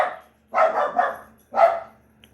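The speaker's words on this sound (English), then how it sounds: "Sorry, that was my puppy." Puppy barking indoors: two or three sharp, close barks in quick succession, with short silences between them.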